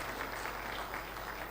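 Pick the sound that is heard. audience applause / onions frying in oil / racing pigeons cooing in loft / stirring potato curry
audience applause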